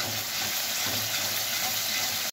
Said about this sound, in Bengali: সামান্য জিরের গুঁড়ো দিয়ে মশলাটা বেশ খানিকক্ষণ ধরে আমি কষবো।